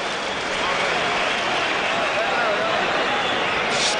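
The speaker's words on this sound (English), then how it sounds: "All around the auditorium, people are standing up and cheering." A boxing crowd standing and cheering around an auditorium after a round, a dense, steady roar of voices and applause filling the space, with a commentator talking over it.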